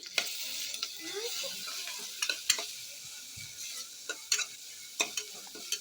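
Freshly pounded ginger garlic paste with turmeric frying in a pan for mutton curry, a soft steady sizzle dotted with repeated sharp clicks and scrapes of a spoon against the pan, nobody talking.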